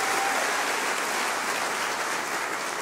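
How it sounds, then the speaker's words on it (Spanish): Church congregation giving a strong round of applause during a worship service, a continuous, even roar of many hands clapping with no voices over it. "Dale un fuerte aplauso al Señor y ponte de pie conmigo."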